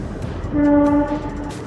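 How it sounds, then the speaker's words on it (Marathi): A train horn blares once for about half a second over the rumble of a passing train, then fades back into the rolling noise. "आला का ट्रेनचा आवाज"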